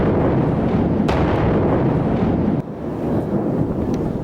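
A bombing explosion in a Baghdadi-held area in 2015 is heard as a loud, sustained rumbling roar with a brief sharper crack partway through, then a slightly softer continuing rumble, with no voices present.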